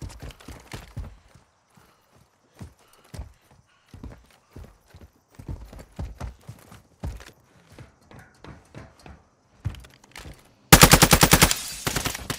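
Gunfire and footsteps in the video game DMZ: scattered short clicks and thuds give way to a sudden loud burst of rapid automatic machine gun fire near the end.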